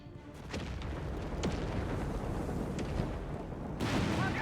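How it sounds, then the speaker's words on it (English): A Sherman tank bombards a Panzer in Company of Heroes 3, with booming artillery and explosions rumbling under continuous battle noise and a sharper blast near the end. "Panzer there being bombarded by the Sherman there"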